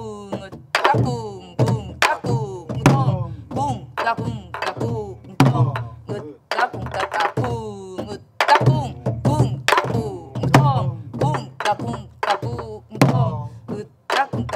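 Korean buk barrel drum played in traditional gobeop accompaniment, beating jungjungmori and jajinmori rhythms: sharp, close wooden-rimmed thunks and deeper booming strokes in steady repeating cycles, with soft voice chanting along in places.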